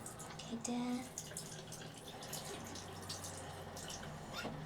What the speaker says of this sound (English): Let me just rinse all of that off.